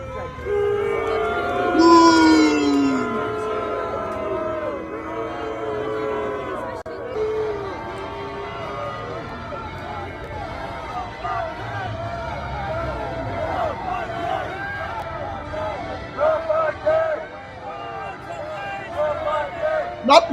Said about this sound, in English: They are booing the king.